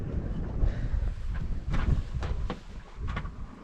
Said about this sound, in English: We've got a nice wind, sometimes up to 16, down to about 11